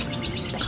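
A small blue songbird, kept as a contest bird, gives brief high chirps and tweets close by over a steady background hum, with no talking.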